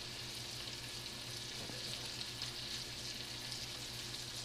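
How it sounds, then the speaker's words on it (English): Trout fillet frying in a pan gives a steady, even sizzle that holds at a moderate level for the whole stretch, with a faint low hum underneath and no talking. "So I'm going to go ahead and fry this trout up, about 3 to 4 minutes on each side"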